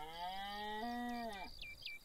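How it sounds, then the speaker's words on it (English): A single drawn-out cow moo sounds in the Lakeview Cabin video game, a clear, moderately close lowing call lasting about a second and a half, followed by a few faint chirping blips in an otherwise quiet scene. "I heard a cow."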